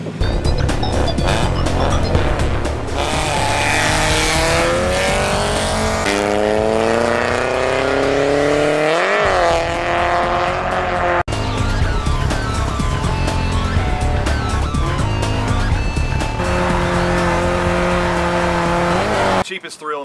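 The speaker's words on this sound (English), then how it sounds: "Here we go, we're going drifting!" A drift car on a Las Vegas track revs hard with rising and falling engine pitch and long tire squeals, loud and continuous throughout, with excited voices mixed in.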